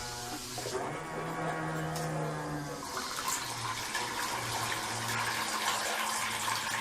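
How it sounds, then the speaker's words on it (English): Homebrew pump running with the valve slightly open, liquid gurgling and rushing through the line in a steady, close flow. "valve slightly open, liquid coming through, no leak,"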